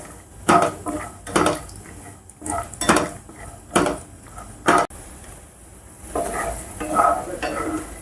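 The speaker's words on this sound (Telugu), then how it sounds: "ఇలాగా వేరుశనగ పలుకుల్ని స్లో ఫ్లేమ్లో వేయించుకోవాలి." Peanut pieces frying in oil over a low flame, with a steady soft sizzle under repeated loud scrapes and clinks of a spoon against the pan.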